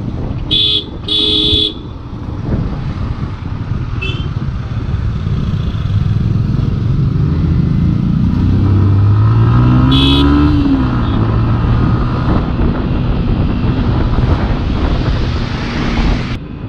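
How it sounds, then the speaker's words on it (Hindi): Heavy road traffic heard from an R15 motorcycle on a highway, with sharp horn toots near the start and later, and a steady engine and wind rumble throughout. Passing vehicles swell in and out, and there is no speech. "ट्रैफिक बहुत ही ज़्यादा है यार। दिमाग खराब कर रखा है ट्रैफिक में।"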